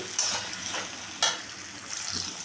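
Grated tomato and slit green chilies hit a hot pan with a steady sizzle, broken by two sharp clinks of a spoon or spatula against the metal during stirring.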